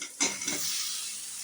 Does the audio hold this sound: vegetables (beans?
yes